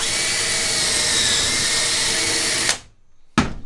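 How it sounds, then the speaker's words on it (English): A power drill bores pocket holes into wood for a router sled jig, a loud steady whine running nearly three seconds before cutting off, followed by a brief restart. "And you just drill your first one."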